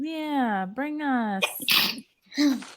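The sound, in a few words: sneeze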